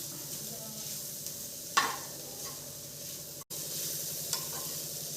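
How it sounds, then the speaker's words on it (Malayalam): A ground paste mixture with chilli powder is sautéed in a pan, giving a soft continuous sizzle with a few faint stirring scrapes and no voices. "എല്ലാം ഇട്ട് ചരക്കിയതും കൂടി ഇട്ട് കുറച്ച് നേരം ഒന്ന് അതിനെ വഴറ്റണം."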